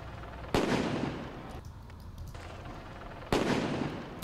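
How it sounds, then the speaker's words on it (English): Tear gas canisters exploding in news footage, two loud sharp bangs a few seconds apart over a steady outdoor background, fairly close. "It's when the tear gas explodes."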